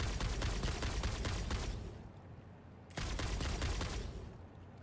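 Rapid automatic gunfire shooting enemies in the video game Satisfactory, two loud sustained bursts separated by a brief pause, with no talking.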